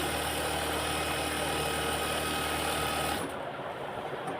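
A sewing machine runs steadily, stitching a straight seam on fabric for a flared skirt, with a continuous loud mechanical whir that cuts off abruptly near the end.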